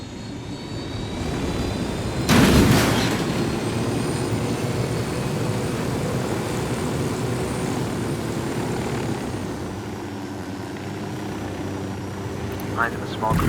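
Continuous aircraft engine drone from a piloted aircraft in the video game Ghost Recon Wildlands, steady and fairly loud, with a brief louder swell early on and a person talking over it.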